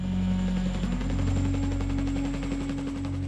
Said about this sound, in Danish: hvordan den ene helikopter efter den anden kommer ind for at hente sårede britiske soldater